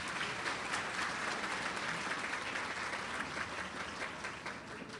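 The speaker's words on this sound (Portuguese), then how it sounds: "mas a salva de palmas para todos." Audience applause at a Brazilian app launch event: steady, dense clapping from a crowd filling the whole stretch, loud and continuous without a break.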